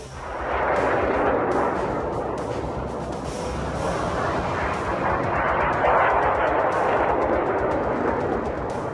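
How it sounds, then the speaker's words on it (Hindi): Missile attack launched by Iran, with heavy explosions: a dense, continuous roar and rumble of blasts and booming fire, loud and sustained throughout with no pauses, no voices heard. "ईरान की तरफ से फिर से मिसाइल अटैक लॉन्च किया गया।"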